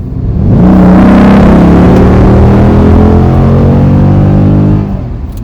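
A 2008 Dodge Challenger SRT8 pulls hard through a 40 to 78 mph roll, its engine note swelling loud and rising steadily in pitch for several seconds before easing off, heard close from inside the car.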